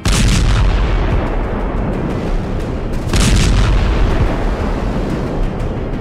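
Iskander missile strike explosions in Kharkiv, heard as loud, continuous rumbling blasts with a renewed heavy surge partway through, filling the whole clip with roaring, distorted booms and no talk.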